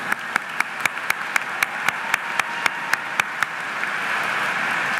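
Audience applause at a medical school white coat ceremony: a few distinct, evenly spaced claps ring out at first, then blend into a steady wash of clapping that keeps building toward the end.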